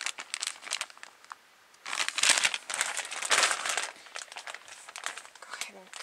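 A mailed package of squishy toys is cut open, with bursts of crinkling and rustling plastic packaging close by, broken by a brief pause.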